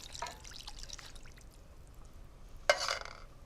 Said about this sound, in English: I always swill out the tin with water, get every last drop. And in it goes.